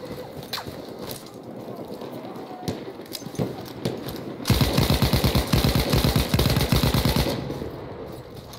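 Rapid automatic gunfire in the multiplayer Rush mode of the video game Battlefield 1: scattered shots at first, then a loud, sustained machine-gun burst of evenly spaced rounds for about three seconds, with faint voices in the background.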